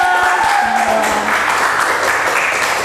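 A class in a dance and arts lesson applauds: steady, dense clapping from many hands, close and continuous for a few seconds, with faint voices at the start.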